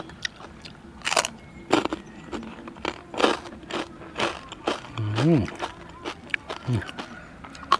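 Crunchy oven-roasted pork tail eaten alongside spicy papaya salad, with loud, close bites and irregular crackly chewing; someone talks between mouthfuls.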